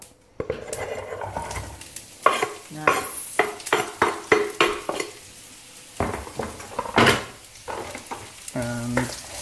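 Chopped onions land in a hot pan of mustard seeds over medium heat, setting off a loud, crackling sizzle, with repeated scraping strokes of a utensil stirring against the pan, close and busy.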